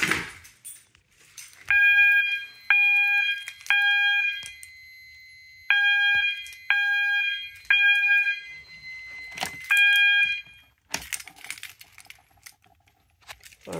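A System Sensor MASS fire alarm sounds during a system test, sharp bright tonal bursts repeating in short groups of pulses with brief gaps, loud and close, between clicks and clatter from handling the equipment.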